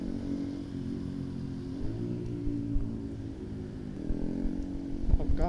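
A motorcycle with an open exhaust pipe roars past at close range, a steady loud engine drone that swells slightly toward the end, with no talking.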